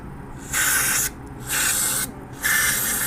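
Three short bursts of cleaner sprayed onto the front brake caliper pistons of a Honda Goldwing motorcycle, each a close, steady hiss lasting about half a second with brief gaps between.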